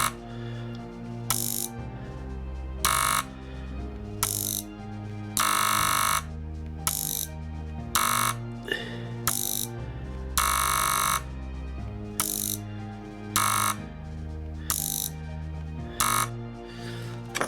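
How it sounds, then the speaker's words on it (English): Model railway point motor driven by a Lenz LS150 accessory decoder, giving loud repeated buzzing snaps of switching in an irregular series of short and longer bursts over a low steady hum, with no talk. "let's try the actual point motor on the accessory decoder"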